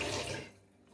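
Tap water runs while dishes are washed in a home kitchen, a loud close gush for about half a second that then drops to a softer trickle as the flow eases.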